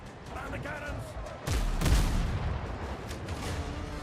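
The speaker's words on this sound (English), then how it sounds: "Man the cannons!" Ship cannons fire in the video game Windrose, a burst of deep booms beginning about a third of the way in, the loudest blast just after, then rumbling on under continuous game noise and talk.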